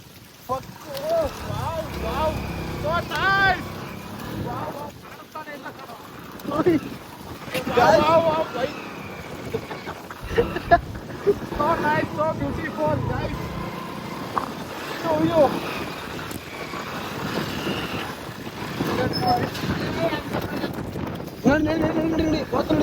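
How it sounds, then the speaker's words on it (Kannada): Strong, gusty windstorm sweeping through a village, buffeting the microphone with a rough, fluctuating roar that rises and falls throughout, while voices talk over it. "ಗಾಳಿ ನೋಡಿ ಗಾಯ್ಸ್, ಬಿರುಗಾಳಿ ಆ ಥರ ಬರ್ತಾ ಇದೆ ಊರಲ್ಲಿ."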